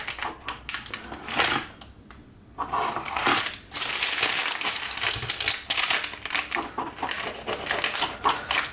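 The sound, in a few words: knife cutting chocolate galette des rois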